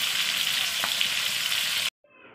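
Khoira fish pieces fry in hot oil with a loud, steady hiss and crackle for about two seconds, then cut off abruptly, followed by a fainter sizzle.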